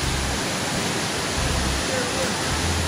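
Steady broadband roar of a mountain waterfall at Silver Hill in Buff Bay, Portland, Jamaica, filling the whole clip evenly and fairly loud, with no clear voices over it.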